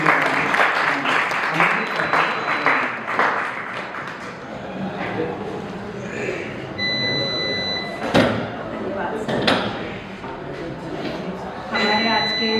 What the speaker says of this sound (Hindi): ताली बजा करके आइए।